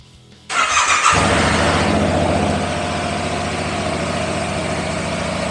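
A Yamaha R7 motorcycle starts after an oil change: a brief starter whir, then the engine catches with a loud rev that settles into a steady, close idle.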